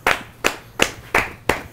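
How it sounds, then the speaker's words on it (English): Five sharp, evenly spaced hand claps ring out at a steady rhythm, close and fairly loud, with brief decays between them in a barbershop setting. "Why are we clapping?"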